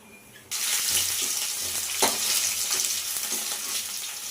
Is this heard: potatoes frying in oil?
yes